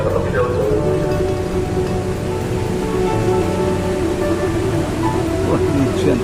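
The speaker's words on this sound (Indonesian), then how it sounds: "ini hujan deras" Heavy rain pours steadily at Bekasi train station, a dense continuous wash that fills the whole stretch, with faint low rumbles and scattered background activity blended in.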